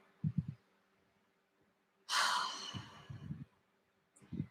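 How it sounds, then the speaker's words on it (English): A person draws one deep audible breath in a quiet room before Nam Myoho Renge Kyo chanting with tapping. A long breathy rush is set between soft low thumps, close and fairly faint. "All right, take a deep breath."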